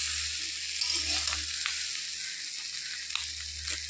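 Bitter gourd and pumpkin fry in oil in a pan, a steady broad hiss of sizzling close by with a low hum beneath and occasional faint stirring clicks, no voices over it.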